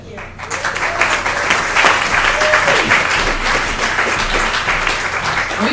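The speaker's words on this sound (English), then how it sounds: "Are we clapping for ourselves here" An audience at a live stage show bursts into applause, with steady dense clapping close by and faint voices mixed in.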